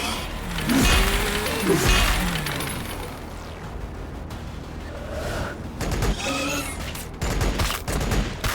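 Gunfire and explosions from the Warhammer 40,000 Battlesector video game, a dense crackling fusillade mixed with game sound effects and voiced unit lines throughout.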